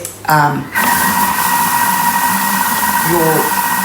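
A Thermomix churns cookie dough at speed 4 with a steady, loud whirring motor hum that holds constant throughout, briefly overlapped by a voice at the start and near the end.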